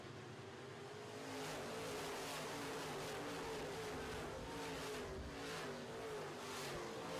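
Midwest modified race cars accelerating together at the green flag, a loud, sustained roar of several engines with rising pitch and passing surges, heard from trackside in an open dirt oval setting.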